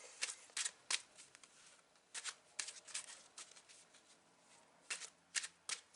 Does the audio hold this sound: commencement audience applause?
no